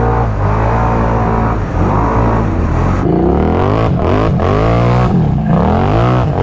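A Can-Am Renegade ATV engine held at full throttle, loud and close, a continuous harmonic roar whose pitch sweeps up and down as revs rise and dip throughout.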